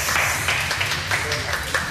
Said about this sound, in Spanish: Los aplausos están de más.